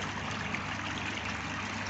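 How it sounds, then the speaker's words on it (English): A koi pond water blade in a garden pond sends a thin sheet of water down into the pool, giving a steady, close trickling splash that runs evenly and without any talk. "got the water blade back on"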